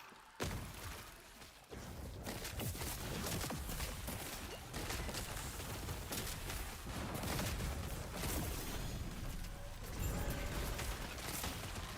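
Dense, continuous rumbling blasts and crashes of explosions in the video game Last Epoch, loud and layered, with bursts overlapping throughout and no pauses.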